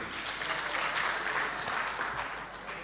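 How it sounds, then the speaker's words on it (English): Audience applause at a provincial premier's economic roundtable, a steady, moderately loud wash of clapping from a seated crowd lasting a few seconds without speech. "A round of applause to yourselves."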